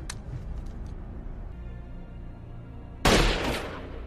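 Gunshot in a film, a single loud sharp blast with a decaying tail cutting through a rumbling dramatic background of low noise.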